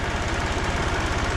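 International 464 tractor engine lugging down under load in second gear: a loud, close, steady low chugging with rapid even pulses and mechanical clatter, no voices.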